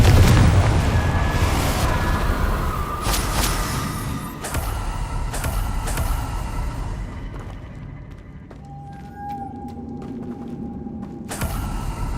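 In the game Hogwarts Legacy, a Confringo blasting spell gives a loud, rumbling low boom that fills the opening seconds, followed by creaking, crackling debris and scattered impacts that slowly fade, with a few sharp sounds later on.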